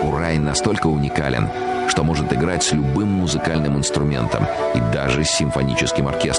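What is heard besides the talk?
No everyday noises stand out.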